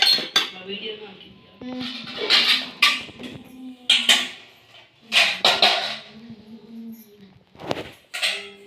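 Metal pots and utensils clink and clatter repeatedly up close, in uneven bursts of sharp ringing knocks.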